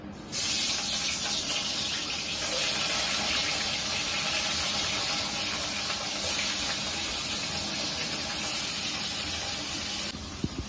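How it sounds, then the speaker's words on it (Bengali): Fish pieces rubbed with salt and turmeric sizzle in hot oil for a fish curry, a loud, steady broadband hiss and crackle that holds at full strength for about ten seconds before cutting off, with no talking. "তেল গরম হয়ে গেছে, মাছগুলি ছেড়ে দিচ্ছি।"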